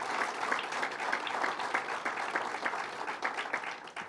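An audience at a Hauppauge meeting on zombie properties gives a round of applause, loud and dense clapping that holds steady throughout and tapers slightly at the end.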